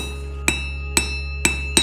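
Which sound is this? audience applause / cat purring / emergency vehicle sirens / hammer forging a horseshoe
hammer forging a horseshoe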